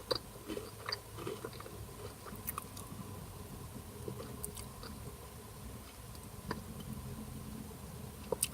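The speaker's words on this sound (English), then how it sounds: "Hope you can't hear me crunch." Someone eats a crunchy snack close to the microphone, giving soft, irregular chewing and crunching sounds that run steadily throughout with no talking.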